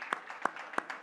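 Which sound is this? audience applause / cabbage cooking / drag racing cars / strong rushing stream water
audience applause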